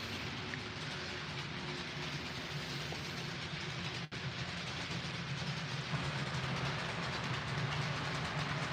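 An HO scale model train running on straight DC track power, with no sound decoder, gives a steady, continuous motor whir and rolling rumble that holds at the same level throughout, close by and alone.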